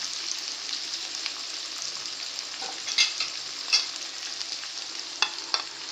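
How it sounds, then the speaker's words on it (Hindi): Bhindi gosht sizzles steadily in a hot pan as spices go in. A spoon clinks against the pan in scattered, sharp taps over the continuous frying hiss. "देखिए अब मैं इसमें जितने भी स्पाइसेस हैं वो सब ऐड करती हूँ"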